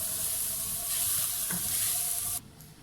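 Samosa filling of vegetables and chicken mince being stirred and mixed in a hot pan, giving a continuous bright sizzle with scraping strokes that suddenly drops away near the end.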